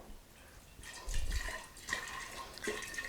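Water splashes and pours out of a steamed oak whisky barrel in quiet, uneven gushes with drips, coming in a few short bursts.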